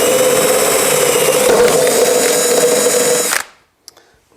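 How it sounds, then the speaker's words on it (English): A power drill runs loudly and steadily on a part for a Bambu Lab X1 Carbon 3D printer fitting, then cuts off abruptly, followed by a couple of small handling clicks. "So just flip it around, take your drill."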